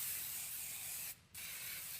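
Cooking spray hisses from a can onto a preheated waffle maker in two bursts with a brief pause between them, close and fairly faint, with no talking.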